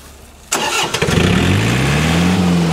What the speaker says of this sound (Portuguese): Baixo ruído, tá? O trator.